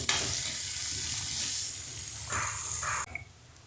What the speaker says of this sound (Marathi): एक कांदा घेतला आहे कापून तो टाकतो कांदा चांगला खरपूस भाजून घेऊया